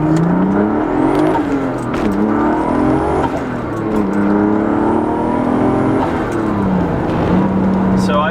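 A turbocharged BMW E36 M3 running around 18 psi of boost accelerates hard, its engine note climbing in repeated rising sweeps through the gears over a steady loud drone.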